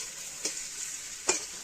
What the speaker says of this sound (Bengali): মশলার মধ্যে একটা জায়গায় মাছ ভাজা চলছে